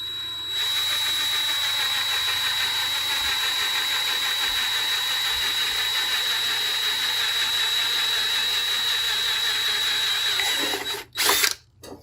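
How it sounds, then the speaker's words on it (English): A power drill boring a hole through the metal case of a PC power supply for an on-off switch, a loud steady whine running alone for about ten seconds before stopping abruptly. "I am going to drill a hole for the on-off switch."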